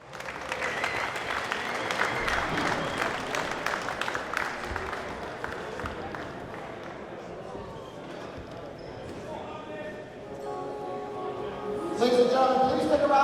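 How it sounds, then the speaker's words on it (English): An event crowd applauds two grapplers after their bout with a dense, sustained burst of clapping that thins out midway as talking and background sound take over. "So big round of applause for both these two."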